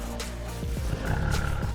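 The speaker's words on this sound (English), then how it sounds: "Roar, roar. Well done. It's a tiger." A tiger's deep, rumbling roar sounds for nearly two seconds, loud and close, swelling midway with growling pulses.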